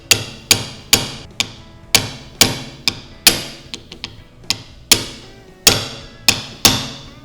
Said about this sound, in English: use a punch and a little hammer